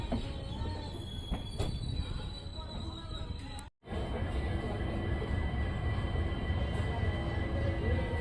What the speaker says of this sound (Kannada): ಎರಡು ನಿಮಿಷ ಹಾಲ್ಟ್ ನಂತರ ನಮ್ಮ ಟ್ರೈನ್ ಹಾಸನಿಂದ ಹೊರಟಿದೆ